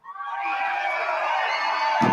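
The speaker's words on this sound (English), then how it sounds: "Make some noise if you want to powwow." Loud powwow crowd cheering, whooping and shouting in a sustained roar of many voices that swells quickly and holds steady, with a closer burst near the end.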